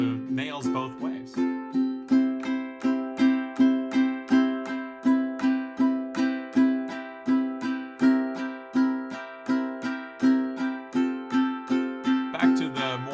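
Ukulele strummed with the fingernails on both down and up strokes, a bright, crisp chord rhythm repeating steadily and close, with brief fumbling strings at the start and end.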